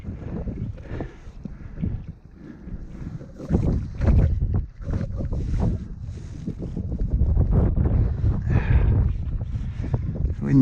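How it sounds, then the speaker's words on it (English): Gusty wind buffets the microphone beside a river margin on a January carp-fishing trip on the Ebro, a loud, steady low rumble with surging gusts and faint water sounds, no talking. "It's windy. That's right, you can hear that."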